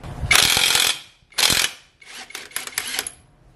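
A hand ratchet fitted with a 24 mm socket works a scooter's swing arm nut: three quick bursts of sharp clicking, loud and close, with short pauses between strokes.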